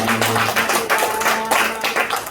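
A church congregation claps together during a Sunday morning service, a dense, loud wash of hand claps with surging bursts filling the whole stretch, no speech over it.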